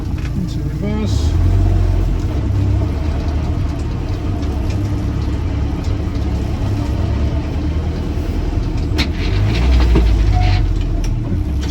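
A military Land Rover Series 3 Lightweight with servo drum brakes runs close by while being put into reverse, its engine giving a steady low rumble that swells briefly near the start and end, with voices mixed in.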